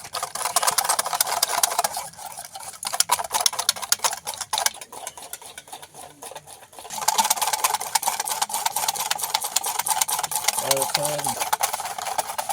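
A hand whisk beats a rice and lentil batter for chakli pitha in a bowl, making fast, continuous ticking strokes that pause briefly midway, with a short burst of voice near the end.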